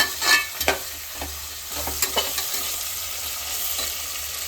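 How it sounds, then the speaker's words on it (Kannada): Vegetables roasting and frying in a pan until they turn yellow: a continuous bright sizzle, close up, broken by several sharp scrapes and taps of a stirring spoon, with no voices. "ಸ್ವಲ್ಪ ರೋಸ್ಟ್ ಮಾಡಿಕೊಂಡು ಇದು ಸ್ವಲ್ಪ ಯೆಲ್ಲೋ ಕಲರ್ ಬರೋ ತನಕ ಫ್ರೈ ಮಾಡ್ಕೊತೀನಿ"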